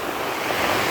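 Rough sea waves crash and roar along a provincial shore, a dense, continuous wash of surf close by with wind noise, steady and loud with no break.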